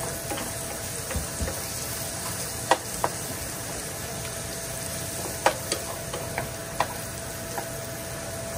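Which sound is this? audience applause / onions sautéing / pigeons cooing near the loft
onions sautéing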